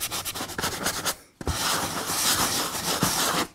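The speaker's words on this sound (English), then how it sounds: "Because it's a sponge, it can sand into the texture." A sanding sponge scrubs back and forth over a textured drywall patch, rhythmic close rasping strokes broken by a short pause before a longer continuous run of sanding.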